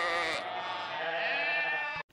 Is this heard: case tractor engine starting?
no